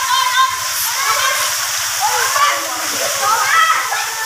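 Water splashing and rushing at a resort pool, a steady loud wash of flowing water close by, with voices talking over it.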